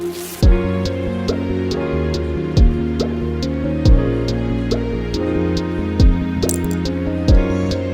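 Chicken masala being stirred in a pan, a regular scrape-and-squish repeating about every second and a half, with a steady sizzle underneath and no talking.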